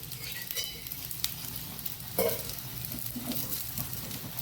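Ridge gourd and methi seed dosa sizzles softly on a pan after oil is drizzled over it, a faint steady crackle with a brief louder hiss midway.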